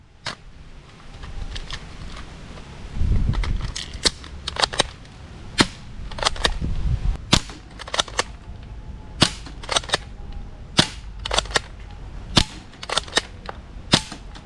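Rapid gunfire from an SMG in a video game: bursts of sharp, loud shots in an irregular rhythm, with a low rumble underneath, and no speech.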